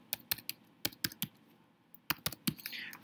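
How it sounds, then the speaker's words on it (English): Numbers are typed on a computer keyboard in two short runs of crisp, close key clicks separated by a brief pause. "you just wanted to type in some numbers"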